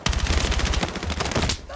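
Rapid gunfire in the video game Battlefield 6, a dense burst of repeated shots, loud and close, ending abruptly with a brief tail.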